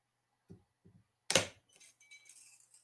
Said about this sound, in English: When I cut a piece of glass, I've got the same amount of pressure.